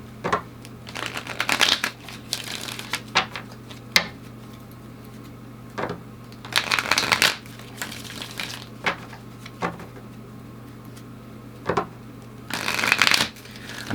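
A tarot deck is shuffled by hand in several distinct bursts of riffling and flapping cards, close up, separated by quieter gaps with small handling taps and a low steady hum beneath.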